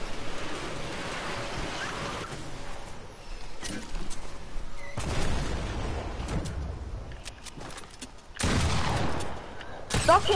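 Video game gunfire crackles in scattered bursts over a constant rushing, wave-like background roar, with a louder burst of shots near the end.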